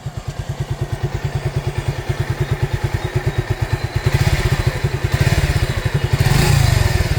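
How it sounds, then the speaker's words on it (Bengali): A matte black Suzuki Gixxer motorcycle engine runs after a full engine repair. It idles close by with a steady, even thumping pulse, then gives a few short revs near the end. "এই যে বাইকটার সাউন্ড শোনেন"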